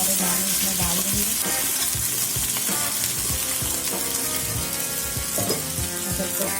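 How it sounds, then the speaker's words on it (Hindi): Sweet corn kernels sizzle and fry in melted butter in a pan, a steady loud crackle with stirring clatter throughout and no talking. "अब हम अपने कॉर्न के सारे दाने इसमें डाल देंगे,"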